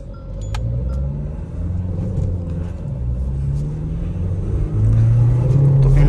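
A Mahindra Scorpio N SUV with a 172 horsepower engine drives in zoom mode, a continuous loud cabin rumble of engine and road noise that swells near the end as it accelerates.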